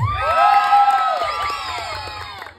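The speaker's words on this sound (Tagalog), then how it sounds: "Palakpakan na sigawan para kay Jomar!" A crowd cheers, whoops and shouts with scattered applause for Jomar at a lively gathering in Bulacan, loud and close, swelling and then tapering off over a few seconds.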